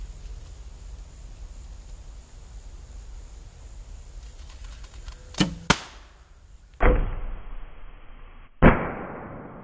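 Arrows shot from a bow pop balloons outdoors: a light hiss and a couple of quick snaps, then two sharp, loud pops a couple of seconds apart, each with a short decaying tail.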